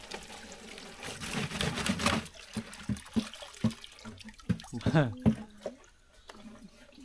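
Water is scooped and poured from a village well shared by a Mang Kong tribal community, heard as faint intermittent sloshes, pours and trickles alongside people talking nearby.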